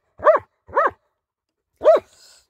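A German Shepherd gives three sharp, close barks, two in quick succession then a pause before the third, with a faint rough tail after the last.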